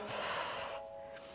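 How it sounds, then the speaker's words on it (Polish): A fitness instructor's strong, forceful exhale during an abdominal exercise, a single loud breathy rush of air lasting under a second, close up and followed by a quieter trailing breath. "Słuchaj, kiedy oddycham,"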